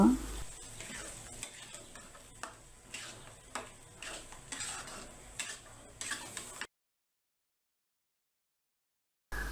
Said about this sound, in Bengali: এভাবেই করে নাড়তে থাকব